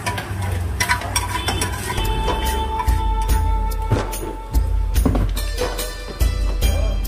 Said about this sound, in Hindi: अब हम इसमें डालेंगे भुनी हुई सेवियां।